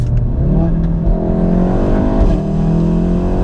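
Modified Stage 3 VW Golf R wagon making about 500 bhp, its engine revving hard under load as the car accelerates, a loud, steady, close-up roar with rising harmonic tones and no talking.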